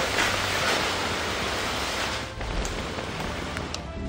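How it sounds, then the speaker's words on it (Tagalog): Typhoon Opong drives heavy rain and strong wind over Masbate City, a loud, steady wash of rushing noise with gusts swelling and dipping throughout. "ganito na kalakas ang ulan at hanging dala nito sa Masbate City"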